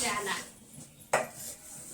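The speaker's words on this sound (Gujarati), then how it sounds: "આ સાઈડ વાસણ ધોવે મમ્મી" A mother washes metal dishes and utensils at home, with soft clinking and scraping and one sharp clank of pots knocking together midway, close and alone without voices.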